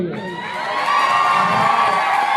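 A large college crowd at a Punjabi movie promotion event cheers and whoops for turbaned boys, a dense, steady roar of many voices that swells louder midway and holds.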